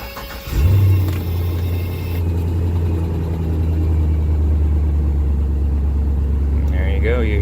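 A vehicle at a live auction in Millville, PA, with its check engine light on, cranks and settles into a steady low idle that runs close and continuous, with brief talk near the end.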